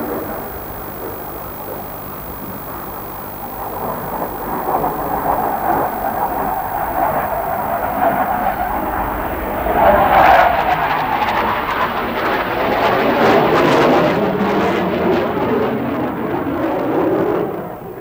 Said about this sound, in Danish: Flyet tager her afsked med os